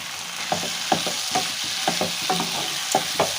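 Spinach stirred in a hot pan, a broad steady sizzle with a rhythmic series of scraping spoon strokes about every half second, close and fairly loud, no speech.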